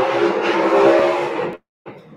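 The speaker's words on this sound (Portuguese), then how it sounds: "motos com barulho essa hora da manhã" Loud motorcycles pass in a street early in the morning: a broad, rough engine roar sweeping by for about a second and a half, then cutting off abruptly before another engine starts, heard close with a voice.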